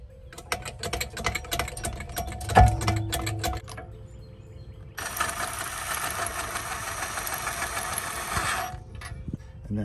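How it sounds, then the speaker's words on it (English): A Sprinter jack set under a van's axle is pumped in a run of quick clicking strokes, then a louder, denser stretch of rapid ratcheting, close by with a low rumble beneath and no talk. "So I have the Sprinter jack here under the axle."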